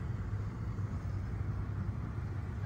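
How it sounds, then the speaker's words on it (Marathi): An auto rickshaw engine droning steadily while riding toward Panshet, a low continuous rumble with road noise and no pauses. "बघा, रिक्षाने चाललोय आम्ही पानशेतला"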